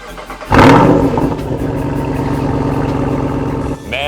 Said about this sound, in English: you can open up the exhaust baffles to give it that rumble